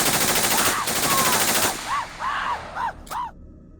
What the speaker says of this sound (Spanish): El silencio se rompió por una ráfaga de disparos.